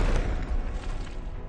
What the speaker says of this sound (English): Just to prove that, I will actually detonate it.